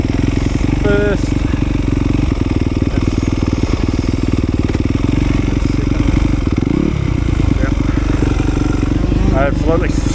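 A 2020 Yamaha YZ250FX dirt bike engine runs loud and close throughout a launch start, with a steady buzzing drone, clattering mechanical noise and a brief rev change partway through; a voice talks over it.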